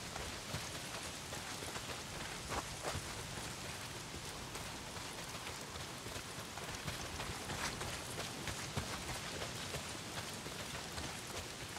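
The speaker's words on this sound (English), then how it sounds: "Well, not if it's pissing down rain." Heavy rain pours down steadily in the Days Gone video game, a dense, even hiss that holds for the whole stretch with no voices over it.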